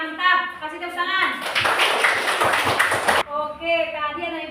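A room full of children clapping together, a dense burst of applause that rises abruptly and stops after a few seconds, with young voices talking before and after.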